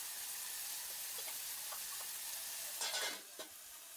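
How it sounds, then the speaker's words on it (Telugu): Tomato pieces fry in a pan for an Andhra chicken curry, giving a soft, even hiss of sizzling. Near the end a couple of quick stirring scrapes rise briefly above it. "ఇప్పుడు కరిగి ఉంచుకున్న టమాటా ముక్కలను కూడా అందులో వేసుకొని ఒకసారి బాగా కలపండి"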